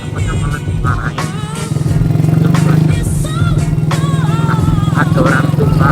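A purple Honda Astrea Dream motorcycle's exhaust drones steadily and loud while riding, a continuous close engine note that rises in intensity partway through, with rattling clatter and wind over it.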